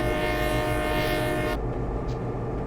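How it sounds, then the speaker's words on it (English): A train horn blows in the Train Simulator 2020 game on the NS N-Line, a loud sustained tone with rumbling engine noise beneath, cutting off abruptly partway through and leaving the low rumble. "A little early to the whistle."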